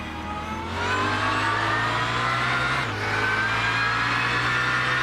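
Race cars in a racing video game accelerate together off the line, a loud, continuous engine whine that climbs in pitch, drops briefly at a gear change and then rises again, with no talking.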